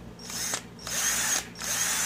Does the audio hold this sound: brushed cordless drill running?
yes